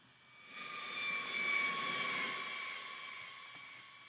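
Field recording of an aircraft passing overhead, engine roar swelling from faint to loud and fading away with a falling Doppler pitch shift over about four seconds, distant and without voices.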